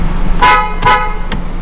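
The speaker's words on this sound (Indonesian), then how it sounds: "Oke ya, klakson" A 2017 Honda CR-V's horn sounds during a used-car inspection, two loud close honks followed by a short third toot, with no talk over them.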